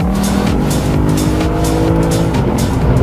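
Lexus IS accelerating hard on a highway, a loud, sustained engine roar climbing steadily in pitch through the gears, heard from close by with no talking.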